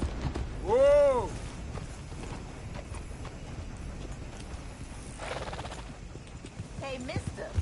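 A horse in Red Dead Redemption 2 gallops with rhythmic hoof clip-clops under the game's ambience, with a loud whinny near the start and another snort toward the end, while voices talk over it.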